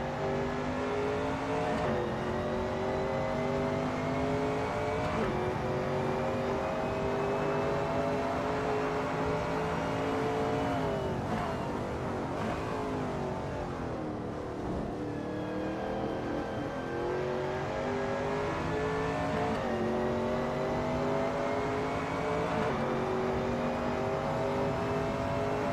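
A Shelby Cobra 351 race car in a racing game lapping Donington Park, its engine droning steadily with rising and falling pitch through gear changes, close and continuous with no talk.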